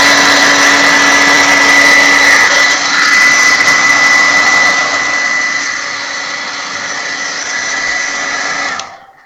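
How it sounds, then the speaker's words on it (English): A hair dryer blows loudly and steadily with a constant whining hum, running close by for several seconds before cutting off abruptly. "I'm gonna hairdryer this for a sec."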